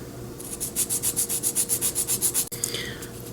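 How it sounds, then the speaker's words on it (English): Rhythmic back-and-forth rubbing of a Hydra/Wyvern miniature's mounting surfaces on sandpaper, about a dozen quick even strokes close to the microphone, ending with a small click and scrape. "means doing some sanding work."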